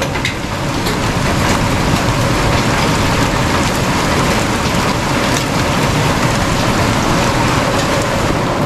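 A small storm's heavy rain drums steadily and loudly on surfaces around a rural homestead, a constant close downpour with faint low rumbles and no talking.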